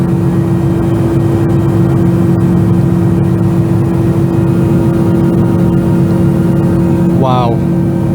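A steady, loud drone of MD-83 jet engines fills the cabin of a Tez Jet airliner on a Bishkek–Osh flight in Kyrgyzstan at the start of cruise, a constant roar and hum with a brief whine-like tone near the end.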